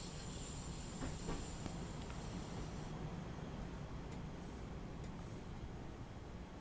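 A train in Train Simulator 2015 rolls along steadily with a low rumble of wheels on rails and some faint squeal, nearby and constant throughout, with no talk.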